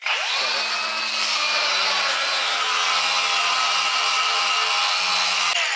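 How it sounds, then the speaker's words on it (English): A MIG welder running practice beads on scrap bits of steel, a steady close buzzing crackle held unbroken for several seconds, alone without talk, cutting off abruptly at the end. "just going to do a couple of practice welds on these random bits of metal"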